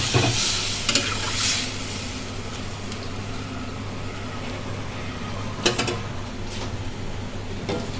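A simmering Bengali chhanar dalna curry sizzles and hisses steadily in the pot as fried chhana (cottage cheese) balls go in. A few sharper splashes and clinks stand out near the start and again later on.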